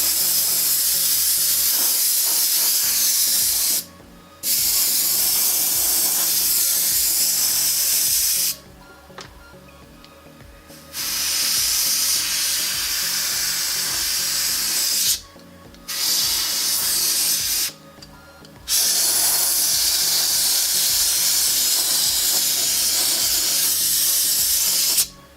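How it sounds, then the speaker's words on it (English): Airbrush hissing steadily as it sprays a paint splatter effect onto a license plate, long continuous bursts broken by several short pauses, close and loud with no talking. "So I add this splatter effect, giving the plate some texture that really brings out the, you know, brings your eye to the middle."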